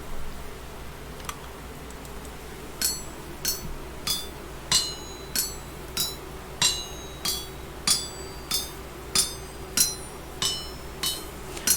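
A pickaxe head is hammered on an anvil in the video game Vintage Story. About a dozen sharp metallic clinks ring out at a steady, roughly one-per-second pace over a low ambient hum, with no talking.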